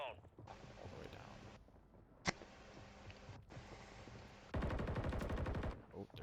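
Call of Duty Warzone gunfire: automatic weapon bursts rattle in rapid strings at moderate level, the last burst louder and closer, with a sharp single shot between them.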